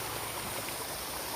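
Water flows steadily in a stream at an outdoor spot, a continuous even rushing and gurgling wash at moderate level throughout the short stretch, with no voices.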